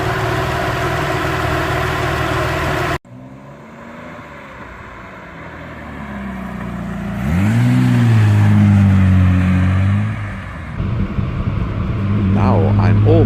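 A Maserati Bi-Turbo's twin-turbo 2.5-litre V6 engine is heard while driving along a lakeside road, a steady, loud mid-range drone that dips after an abrupt cut, then swells and revs up again.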